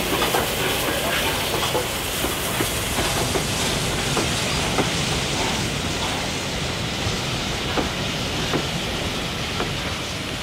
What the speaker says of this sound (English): First to arrive is 60163 Tornado, hauling the A1 Locomotive Trust Special from